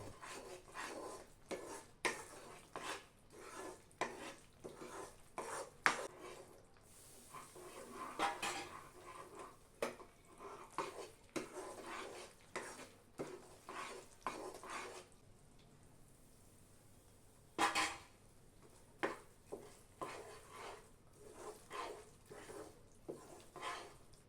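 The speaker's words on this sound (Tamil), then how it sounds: "தொடர்ந்து சூடான எண்ணெயோ நெய்யோ விட்டு கிளறிக்கிட்டே இருக்கணும்" A spoon stirs Mysore pak in a pan with hot oil, producing faint, rhythmic scraping and clacking strokes that repeat steadily, with one brief quieter pause midway.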